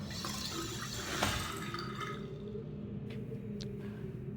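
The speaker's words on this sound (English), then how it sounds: "Bro built running water for himself and didn't give it to the villagers." Running water from a tap in the puzzle game Riven gushes steadily, then tapers to a quieter trickle with a few faint drips, set against a low ambient hum.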